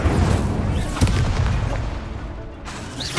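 An Incendio fire spell is cast in Hogwarts Legacy: booming, blast-like bursts of flame erupt loudly and close, with a sharp impact about a second in and a fading rumble afterward.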